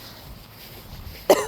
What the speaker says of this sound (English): that cough, not gonna be edited